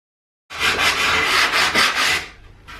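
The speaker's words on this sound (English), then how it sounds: "I always give the buck a bit of a sand along the edges" Edges of a wooden buck, cut on a jigsaw, are sanded for hammer-forming car body repair panels: a close, loud rasping rub in a few strokes that begins abruptly after silence and tapers off.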